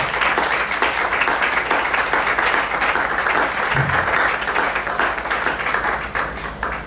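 A church congregation applauds the Lord, with steady, dense clapping from a crowd that holds an even level throughout, with a brief low thump partway through.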